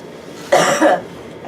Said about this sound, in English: As I like cough and hack the whole entire time